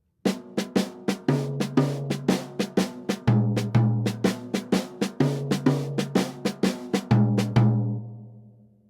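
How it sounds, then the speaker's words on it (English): A snare drum plays a repeated jazz rhythmic pattern of crisp strokes, with louder accented hits recurring in a steady groove, played alone. "I'll just play it on the snare drum first so you can get a feel for it"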